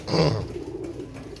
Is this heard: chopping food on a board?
no